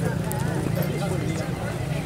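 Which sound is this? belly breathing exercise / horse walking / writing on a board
horse walking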